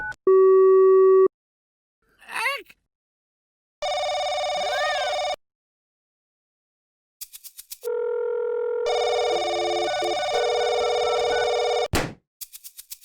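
Telephone sounds: a steady dial tone, a warbling ring, then a long multi-tone busy signal with clicks and a thunk between them, loud and clear with no talking.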